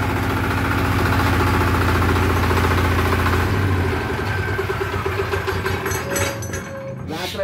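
A 10 HP TCA hand tractor engine with an electric starter idles loudly and steadily up close, its rhythmic chugging settling into a rougher, quieter running partway through.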